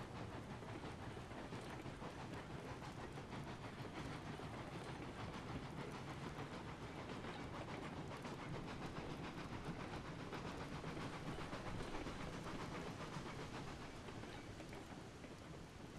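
Steady rumble and clatter of a train rolling along rails in Railroads Online, old locomotive number 4 pushing for speed; continuous even noise with faint rhythmic ticking from the wheels, no one speaking.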